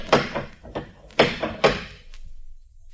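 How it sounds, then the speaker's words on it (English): Heavy knocks on a door in an old-time radio detective drama sound as loud, close thuds in uneven bursts, followed by a quieter low rumble. "Anyone in the neighborhood would have heard that knock."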